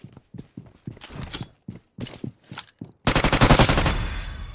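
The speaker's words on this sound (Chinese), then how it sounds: "切墙后准星对着楼梯口，他下来的话就开枪打。" Gunfire in a first-person shooter video game: rapid bursts of shots in short groups, then a sustained loud automatic volley near the end.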